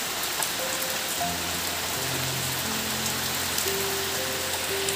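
Heavy rain pours steadily on a Bengali home, a dense, continuous hiss of drops striking surfaces with no gaps, while faint tonal hums drift in the background.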